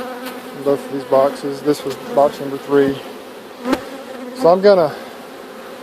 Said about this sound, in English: Over here you can see still a lot of bees over here.